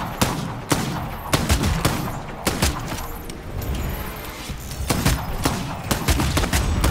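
Gunfire in the vampire battle royale game Bloodhunt cracks out as sharp, separate shots and short bursts, loud and close, spaced unevenly across about seven seconds over a dense background of game noise.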